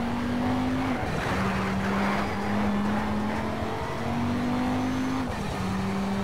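Race car drifting in the video game NFS Shift: a sustained engine drone with wavering pitch runs steadily throughout, under a continuous wash of tire noise, moderately loud and with no speech.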